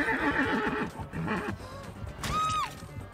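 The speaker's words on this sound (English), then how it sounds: "Not the horse, not Maurice." A horse neighs inside the Dead by Daylight video game, a clear descending whinny that rises over busy game sounds and music late in the clip.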